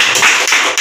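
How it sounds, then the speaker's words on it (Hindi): Audience clapping at a direct selling industry achievers' event, a short dense burst of applause from many hands, loud and close, filling under a second with no talk. "एक ताली होनी चाहिए।"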